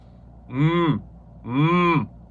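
A person hums loudly with the mouth closed, producing two sustained buzzing tones of about half a second each, separated by a short pause, close and resonant.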